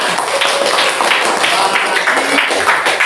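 A classroom of students claps together in a dense, irregular patter of hand claps that runs steadily for a few seconds, fairly close and loud, with a voice faintly underneath.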